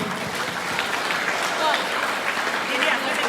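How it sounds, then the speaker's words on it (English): Audience applause at a school English speech and poetry recitation competition, steady clapping filling the room, with some voices faintly audible beneath it. "let us have a big round of applause for them"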